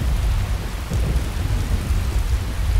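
In Skyrim Special Edition, heavy rain pours continuously with deep rumbling thunder underneath, a dense, loud wash of storm noise with no voices.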